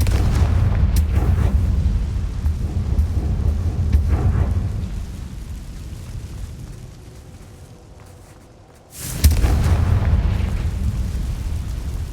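Confringo spell explosions in the Hogwarts Legacy video game: a loud, rumbling blast rolls on for several seconds and slowly fades, then a second sharp explosion bursts in and keeps roaring. No speech.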